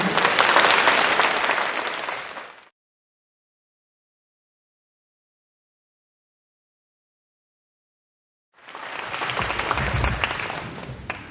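An audience applauds after a speech at a science high school admissions briefing, with a burst of clapping that breaks off into silence and then resumes just as strongly.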